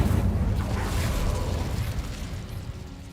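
The Incendio fire spell in the game Hogwarts Legacy, a loud roaring burst of flame that rumbles and whooshes continuously, then slowly fades over a few seconds, with no talk.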